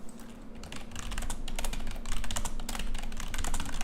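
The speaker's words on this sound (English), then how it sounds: "Lord have mercy on my typing, bro." Rapid, continuous clatter of fingers on a computer keyboard, close and fairly loud, with dense irregular keystrokes running throughout and no talking.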